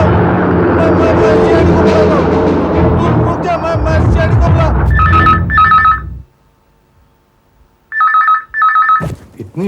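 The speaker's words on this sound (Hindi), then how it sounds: "इतनी रात गए, किसका फोन है?" A telephone rings at night in two short double bursts of bright electronic trills, loud and close, following a stretch of busy, noisy sound and a brief silence.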